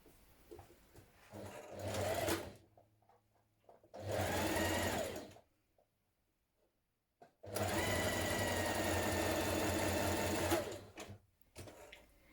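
A sewing machine joins the shoulder seams of a top made from fabric scraps, running in three close, loud bursts of rapid stitching, the last and longest about three seconds, separated by quiet pauses.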